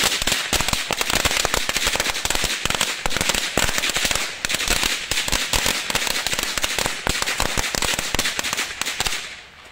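Cobra 6 firecrackers going off in a dense, continuous barrage of loud, close bangs and crackles, overlapping rapidly for almost ten seconds before cutting out abruptly.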